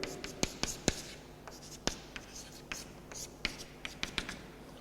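Pen strokes while working a Taylor series maths problem by hand on paper, soft close scratches and taps arriving in an irregular rhythm, quiet and alone.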